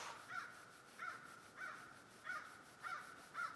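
Crows caw five or six times at a steady interval, each call a short harsh note rising over a faint outdoor hush, moderately distant and quiet.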